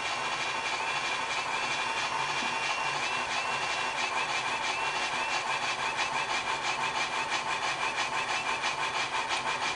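An MTH HO scale Big Boy model locomotive runs with its sound system on, giving a continuous loud rhythmic steam chuff with a faint whistle-like tone above it.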